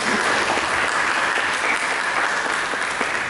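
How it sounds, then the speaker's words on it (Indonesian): A church congregation claps during a service, a continuous, even wash of applause from many hands throughout, moderately loud with no talk over it. "Mari kita berikan tepuk tangan bagi Yesus Kristus."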